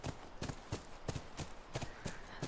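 Horse hooves clip-clopping at a steady walking rhythm in The Last of Us, a regular series of close, evenly spaced hoof thuds over a faint background, with no talk.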